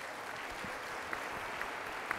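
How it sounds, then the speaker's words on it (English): Applause from a panel discussion audience, a steady, fairly quiet patter of many hands that holds evenly for a couple of seconds at a moderate distance. "Can we please give a round of applause to our panelists?"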